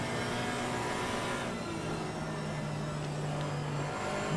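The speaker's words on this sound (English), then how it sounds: "It's interesting how much deeper the GT4 cars sound in comparison to GT3 cars." GT4 race car engines in a sim racing game at the Kyalami circuit, producing a steady, loud, deep drone with a sustained low tone that holds throughout, no voices present.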